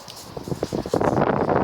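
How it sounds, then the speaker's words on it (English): Gusty wind buffets the microphone, building into a steady rushing roar in the second half, with some rustling mixed in. "It's a little bit windy."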